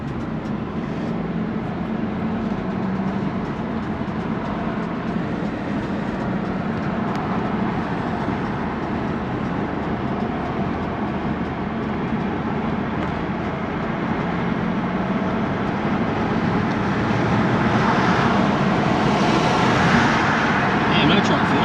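A car's engine runs steadily in sport mode, heard from inside the cabin during a drive through heavy Miami traffic. It is a continuous broadband rumble and road roar that swells slightly toward the end. No voice stands out above it.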